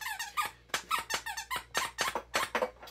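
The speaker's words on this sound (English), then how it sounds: "aside from squeak on my squeaker ball" Rubber squeaker ball toy squeezed repeatedly, a rapid series of sharp, close squeaks in an uneven rhythm, loud and alone with no talking.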